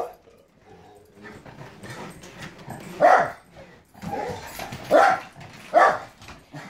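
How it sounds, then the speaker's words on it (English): Dogs inside a house give several sharp barks at irregular intervals, with softer whimpers and movement noise between them. They sound fairly close, with no talking. "Those are the dogs."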